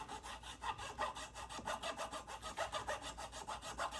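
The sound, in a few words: filing excess bone off a guitar nut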